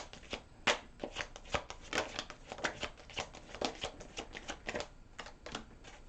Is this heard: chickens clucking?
no